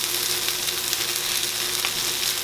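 Kiszka, Polish blood sausage, broken into pieces and frying with onion in a pan, giving a steady, even sizzle with faint crackles, close and continuous with no voices.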